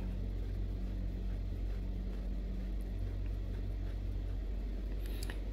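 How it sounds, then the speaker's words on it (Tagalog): A motorboat engine tows a raft off Calatagan, Batangas, a steady low droning hum that stays constant and fairly close throughout, with wind and water noise mixed in. "hinihila na po kami ng motor"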